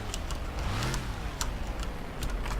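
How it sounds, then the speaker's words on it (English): Vehicle engine in Garry's Mod with ACF, a low droning hum with gentle swells in pitch, heard alongside sharp ticking and clicking bursts over constant broadband noise. "I'm trying not to rev the engine too much so you guys don't get deafened by it."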